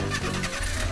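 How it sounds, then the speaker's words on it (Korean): A car engine starting in Minecraft, a short mid-pitched mechanical crank that catches into a running hum, close and lasting under a second. "드디어 시동이 걸리네"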